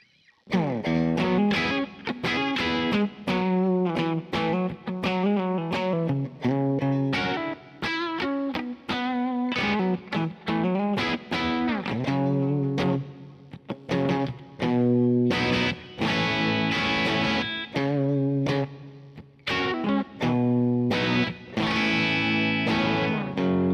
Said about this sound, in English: this large plate I think is a cool reverb too